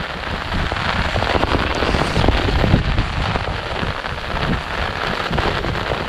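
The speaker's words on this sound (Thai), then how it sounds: "ฝนก็มาอีกแล้ว" Rain falls hard during a tropical storm in rural Thailand, a loud, dense and steady patter of drops hitting the ground and nearby surfaces, continuous for the whole stretch with no voices over it.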